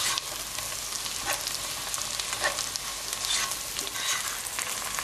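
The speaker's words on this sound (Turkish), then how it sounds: "Şöyle hafif solana kadar biberler kavuruyoruz." Green peppers and garlic sautéing in a pan for a Turkish eggplant dish give off a steady, close sizzle with soft stirring scrapes throughout.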